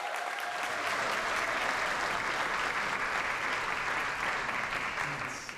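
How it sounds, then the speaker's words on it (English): Steady, dense applause from a large crowd at a graduation ceremony fills the whole stretch, loud and even, tapering off slightly at the end. "can we get a round of applause for the friends,"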